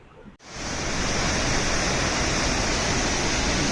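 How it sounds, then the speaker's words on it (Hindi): The Sajla waterfall roars in a steady, loud, continuous rush of falling water that swells in within the first half second and then holds unbroken. "देखिए झरने का एक सुंदर स्वरूप"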